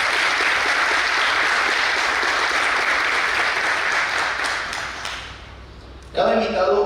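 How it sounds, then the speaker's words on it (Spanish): Audience applause for a panelist at a university communications conference on journalism in conflict zones: steady, dense clapping fills the hall for about five seconds, fades out, then a brief louder burst of handling or clatter follows. "Fuertes los aplausos"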